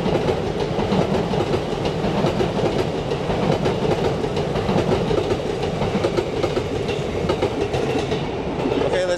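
Trains roll along multiple tracks in Tokyo with a continuous, fairly close rumble and rhythmic clatter of wheels on rails, with no talk.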